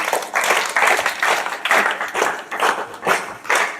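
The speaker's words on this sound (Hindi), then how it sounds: "चलो ताली बजाओ बहन के लिए" Classroom students clap for a classmate, a rhythmic burst of group applause with regular pulses of many hands, close and lively throughout.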